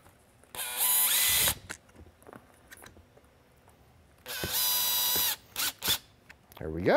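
A power screwdriver drives screws into the bezel of a Whelen Perimeter Enhancement Light, giving two sustained whirring runs close up, then a few quick short bursts as each screw seats.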